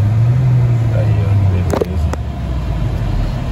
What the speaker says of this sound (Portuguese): deixa eu dar até uma aceleradinha pra ela carregar